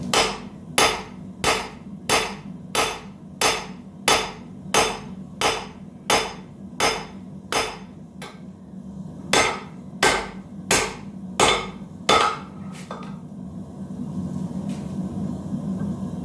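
Sharp metallic hammer strikes ring out in a steady rhythm, about a dozen blows in two runs, then a low rumbling noise takes over.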